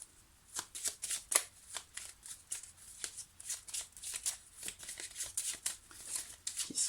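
Tarot cards shuffled in quick repeated riffling bursts, close and crisp, with short pauses between strokes and no voices.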